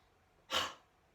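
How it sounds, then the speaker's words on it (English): A single soft breath is pushed out through the mouth during a guided mindful movement exercise, a short close airy rush that swells quickly and fades within half a second. "You're going to breathe out through the mouth."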